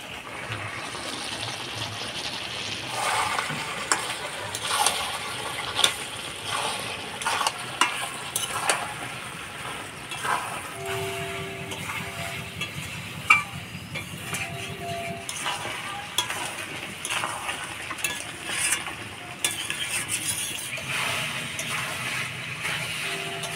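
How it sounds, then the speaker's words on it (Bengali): Chicken curry with fried potatoes and spices is stirred in a pan, a spoon scraping and clinking over a soft, steady sizzle, with occasional louder knocks and a faint hum in the background. "মাংস আলু মশলার সাথে ভালো করে কষা নিলাম"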